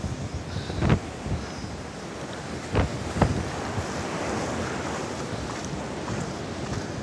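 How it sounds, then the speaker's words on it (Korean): Roaring surf and strong typhoon wind at a beach fill the scene continuously, with a few louder wave crashes and gusts buffeting the microphone. "자, 여러분들 파도를 한번 좀 보여드릴게요"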